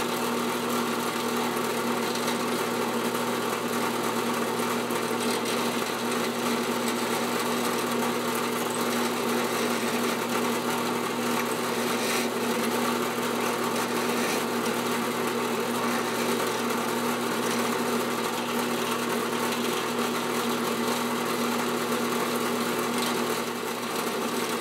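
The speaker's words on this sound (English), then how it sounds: "So we're going to go ahead and drill this out." A drill whines continuously for about twenty-five seconds at a steady, loud, even pitch while boring out a mortise in cherry wood, with no talking.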